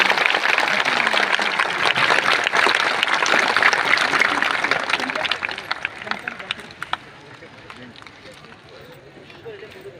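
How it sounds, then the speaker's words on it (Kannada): Loud applause from a large gathering at a residential school event honouring a swamiji, dense and sustained at first, then thinning into scattered claps and fading toward the end. "ಶಿವರಾತ್ರಿ ದೇಶಿಕೇಂದ್ರ ಮಹಾಸ್ವಾಮಿಗಳವರಿಗೆ ಇವೆಲ್ಲ ಜೋರು ಚಪ್ಪಾಳೆಯೊಂದಿಗೆ ಕೃತಜ್ಞತೆ"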